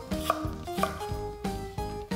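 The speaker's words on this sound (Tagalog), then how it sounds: "Yung maninipis lang na hiwa na sibuyas." A knife slices onion into thin strips for sinuglaw, grilled pork with kinilaw fish, making a handful of crisp, close chops at an uneven pace over steady background music.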